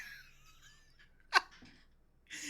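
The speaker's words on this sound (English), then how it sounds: "Why would you sneeze out of nowhere?" A single sharp sneeze bursts out mid-clip, framed by quiet breathing and a brief laugh-like sound afterward.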